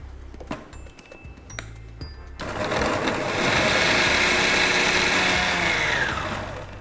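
A mixer grinder blending a spicy chutney of chilli, cumin and salt: after a few knocks, the motor starts abruptly and runs as a loud, steady whine for several seconds before easing off.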